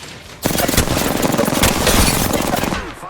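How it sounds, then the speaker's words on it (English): Rapid automatic gunfire in the Apex Legends shooter game, a loud sustained burst of shots starting abruptly and running nearly three seconds before cutting off. "Opening fire on the enemy."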